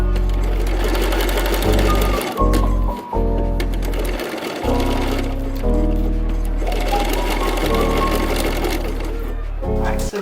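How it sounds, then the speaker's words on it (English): A domestic sewing machine stay stitches around a shirt neckline, running in long steady bursts with brief stops and restarts, close and loud, under a speaking voice. "So that is our stay stitching, just to keep the neckline in place."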